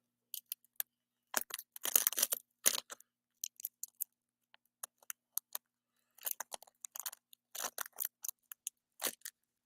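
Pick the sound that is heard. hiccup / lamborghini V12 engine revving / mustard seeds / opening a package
opening a package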